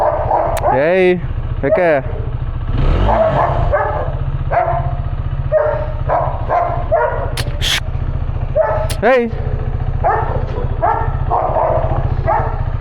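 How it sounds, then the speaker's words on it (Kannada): A dog barks several times at close range, sharp repeated yelps in scattered bursts, while someone talks over it throughout. "ಅದು ನಾಯಿ ಐತಲ್ಲ ಅದಕ್ಕೆ"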